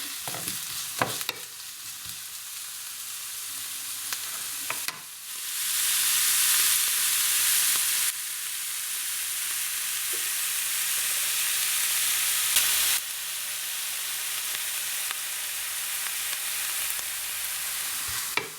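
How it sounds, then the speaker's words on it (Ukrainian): Mushrooms and onion sizzle loudly in a hot pan, a steady crackling hiss that surges after a few seconds, with occasional stirring clinks. "Різати і без того малесенькі гриби не бачу сенсу, тому відправляємо смажитись так."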